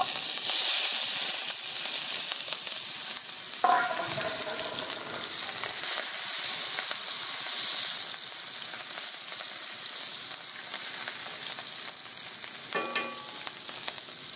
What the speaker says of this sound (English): we're gonna saute the vegetables and garlic